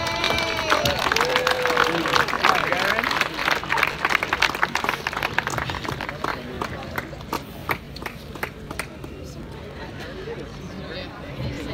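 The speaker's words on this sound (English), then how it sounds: "Round of applause for the Stein family." Crowd applause and cheering at the 2017 Boston Steps for Life 5k awards, honouring a family; a dense burst of clapping that thins out over about twelve seconds, with crowd chatter mixed in.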